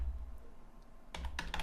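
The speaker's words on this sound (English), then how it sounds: "but let's type it in." A computer keyboard sits quiet at first, then a few quick bursts of close keystrokes follow as HTML code is typed in.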